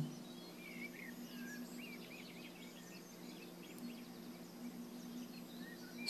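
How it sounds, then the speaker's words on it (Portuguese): Faint, scattered bird chirps and calls drift over a steady hum of insects in a forest, all soft and distant, with no voices. "Som dos pássaros"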